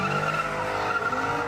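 Car tires screech continuously at an intersection as engines rev, loud and sustained throughout with no voices.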